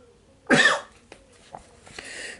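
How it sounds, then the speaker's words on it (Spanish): A single loud, close cough bursts out once, followed by a few faint throat sounds and small mouth noises in an otherwise quiet room. "tenía ganas de toser de tanto hablar"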